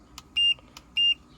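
Tire pressure monitoring alarm in a 2024 Toyota Wigo: two sharp electronic beeps, each with a short click before it, in an even pattern that is close and loud, with no talk.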